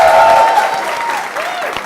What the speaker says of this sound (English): Guys, can we give her one more massive round of applause